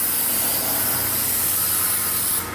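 Brake cleaner sprays from an aerosol can onto brake parts during a rear brake job on a 2008 Ford Expedition, a loud continuous close hiss that fills the whole stretch and eases off slightly at the very end.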